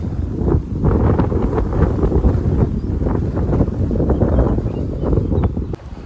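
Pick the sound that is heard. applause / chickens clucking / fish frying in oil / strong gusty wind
strong gusty wind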